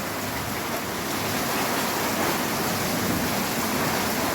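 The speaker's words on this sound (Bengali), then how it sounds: "কি সুন্দর বৃষ্টি হচ্ছে, অনেক তুফান দিয়েছে" Heavy rain pours steadily during a storm, a dense, loud and continuous wash of drops with no speech.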